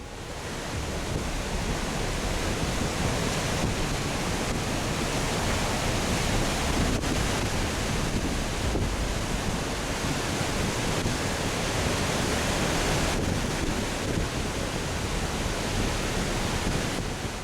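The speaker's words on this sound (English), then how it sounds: "the moment a massive cyclone reaches land, sending water and powerful gusts of wind flooding everything in sight" Cyclone making landfall on a coastal city, with a dense, constant roar of wind and rushing floodwater, loud and unbroken throughout.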